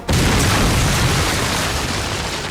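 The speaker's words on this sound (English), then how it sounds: "The combined fire from the artillery and the other Rogel Dorn" A heavy artillery explosion from a Rogal Dorn tank in a Warhammer 40k Astra Militarum versus Necrons tabletop battle, one loud, close boom that hits at once and rolls on as a dense, rumbling roar.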